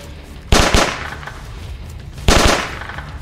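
Gunfire in the video game DayZ: two loud, close bursts of rapid shots about two seconds apart, each a quick cluster of sharp cracks.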